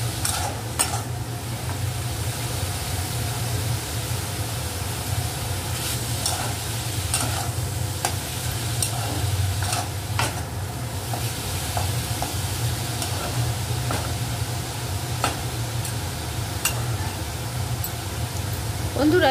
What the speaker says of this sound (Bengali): এটা ভাজা চলুক